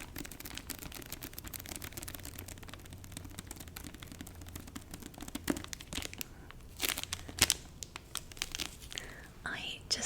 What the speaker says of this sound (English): I just love that crinkly, sticky sound that you get from the library-bound covers.